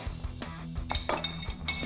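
Dishes and cutlery clink and knock together during washing up, with several light, irregular clatters close by and no voices.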